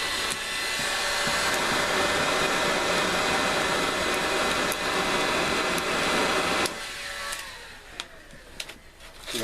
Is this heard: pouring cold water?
no